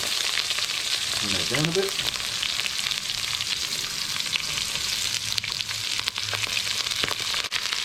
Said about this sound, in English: once those leaves have been frying just for a minute or two, I'm going to add in 1 chopped onion